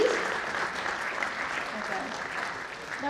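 Conference audience at a sports and exercise medicine event giving a speaker steady, dense applause that continues evenly throughout, with faint voices underneath.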